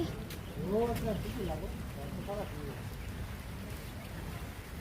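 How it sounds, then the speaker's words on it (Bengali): Rain beginning to fall outdoors, a steady broadband patter and hiss that runs through the whole stretch at moderate level, with a person talking over it early on. "বৃষ্টি শুরু হয়ে গেছে"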